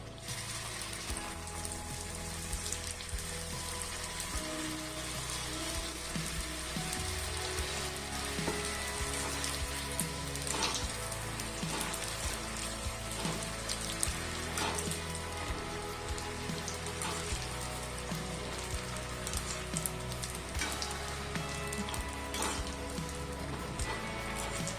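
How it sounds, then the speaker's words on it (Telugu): Rava masala semolina snacks deep-fry in hot oil over a medium flame. The oil sizzles and crackles steadily and densely throughout, close up, with no talk. "ఫ్లేమ్ మీడియం ఫ్లేమ్లో పెట్టుకొని ఇప్పుడు వీటినన్నిటిని వేయించుకుందాం ఆయిల్లో"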